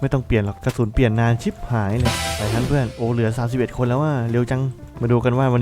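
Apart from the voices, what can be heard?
No distinct noise like a dog, phone or traffic.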